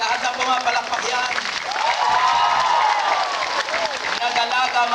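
A church congregation applauds during an Easter Sunday service in Hong Kong, a sustained wash of clapping under a preacher's raised voice and crowd murmur, with the applause swelling in the middle of the stretch.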